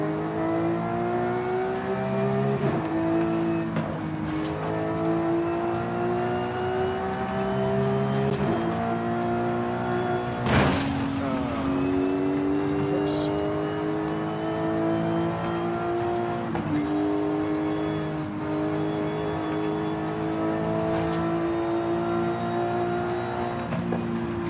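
Porsche sports car engine pulling through the gears on a drive, with steady rising revs, a sharp upshift near the middle and continuous strong mechanical drone, close and loud, no voices.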